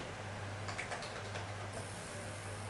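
Computer keyboard typing sounds as a short run of faint, quick key clicks in a quiet room over a low steady hum, with a pause and one last click near the end.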